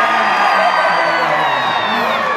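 An audience at the Beetlejuice Graveyard Revue stage show at Universal Studios Florida screams and whoops loudly in one sustained, dense roar of crowd voices.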